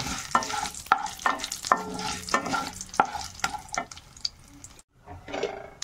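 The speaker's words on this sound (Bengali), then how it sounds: "আর এর মধ্যে দিয়ে দেবো হিং। দিয়ে একটু নেড়ে দেবো।" Tempering spices and asafoetida are stirred in hot oil: close spoon-on-pan scrapes and clinks come in an irregular rhythm over a light sizzle, followed by a short silent break and a few final stirs, with no voices.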